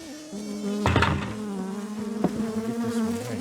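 Honey bees buzz near a hive in cold weather of about 6 to 9 degrees, a close, continuous droning hum with a couple of louder passes, no voices.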